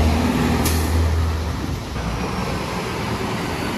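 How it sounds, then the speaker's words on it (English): Heavy trucks drive along a busy suburban main street, producing a loud, continuous low rumble of engines and tires with no pauses, close to the listener. "Just look at all these trucks."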